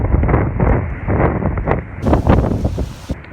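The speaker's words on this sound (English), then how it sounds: "You guys probably can hear the wind. It's getting insane." Strong gusting wind buffets the microphone outdoors ahead of a severe thunderstorm with high winds, a loud continuous low roar with rushing surges that build and swell throughout.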